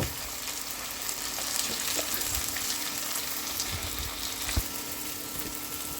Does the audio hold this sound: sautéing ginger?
yes